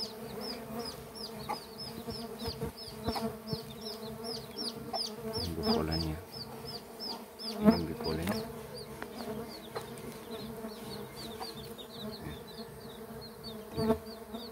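Stingless bees (Trigona biroi) swarm at their hive during a manual honey harvest, giving a steady, dense buzzing hum that runs throughout with occasional louder close passes and faint background knocks.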